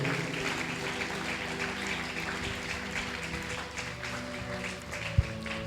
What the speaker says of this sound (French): est-ce que tu peux ajouter des acclamations pour la gloire de Dieu?